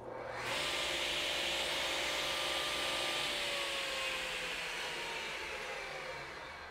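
A Delta 36725T2 table saw starts up and runs at a steady, fairly quiet whine, heard from a short distance, then eases slightly toward the end, with no talking.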